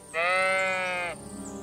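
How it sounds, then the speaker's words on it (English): A single sheep, a lost ram in the video game Kingdom Come Deliverance 2, gives one loud, sustained bleat lasting about a second, close and clear, followed by quiet ambience. "This must be the lost ram."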